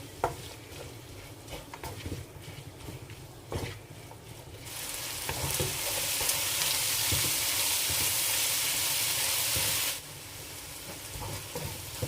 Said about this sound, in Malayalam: എട്ട് പച്ചമുളക് കീറിയതും രണ്ട് തക്കാളി മുറിച്ചതും നന്നായി വഴറ്റാം